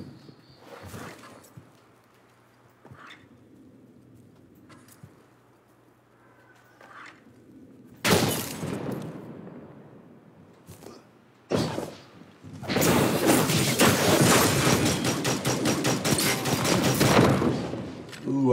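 Video game gunfire in Destiny Trials: sharp bursts around eight and twelve seconds, then a loud sustained stretch of rapid shots filling the last six seconds, with quiet voice chat and clicks earlier.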